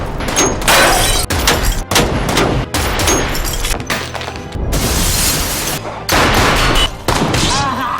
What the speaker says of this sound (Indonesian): tiba-tiba Saiba muncul dengan tembakan akuratnya.